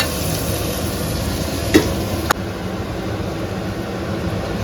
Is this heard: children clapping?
no